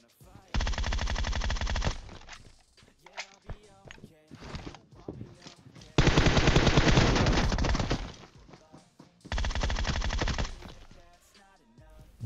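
PUBG Mobile gunfire comes in three long bursts of rapid automatic fire, loud and close. Between the bursts someone talks excitedly.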